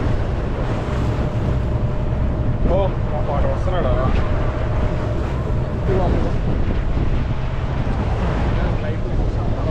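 A cruise ship moves smoothly across open water toward Flowerpot Island, producing a steady engine rumble and water rush mixed with wind buffeting the microphone. Brief talk is heard over it.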